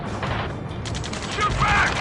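Video game gunfire from Ace Combat 7 comes as a short burst of rapid mechanical rattling shots, loud and close, with shouted voices mixed in.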